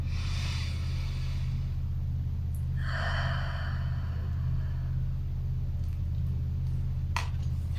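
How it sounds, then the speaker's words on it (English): Slow deep breathing during a guided meditation, with a long hissing exhale around the middle standing out over a steady low hum, heard close with no speech. "Breathe with me, okay?"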